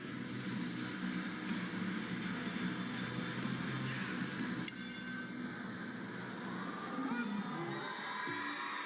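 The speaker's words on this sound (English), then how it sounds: "Crowd, of course, very much behind Sardinia" A loud, dense crowd cheers and shouts at an international Thai boxing fight between Thailand and Singapore, with steady roaring and a few higher yells through the whole stretch.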